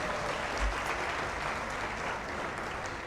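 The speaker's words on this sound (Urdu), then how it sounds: "تو میں چاہوں گا نوجوان پہلے تالی بجا کے بتا دیں" A young audience at a mushaira poetry session of the 2022 Aalmi Urdu Conference claps in steady, dense applause that stays even and fairly soft throughout, with no voices standing out.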